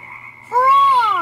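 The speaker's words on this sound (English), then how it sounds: "Frogs!" A single frog croak rings out close and loud, a rising-then-falling call lasting about a second, following a brief lower tonal sound.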